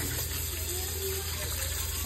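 Running tap water splashing steadily over a pork hock being washed in a kitchen sink, a continuous close gush that stays even throughout.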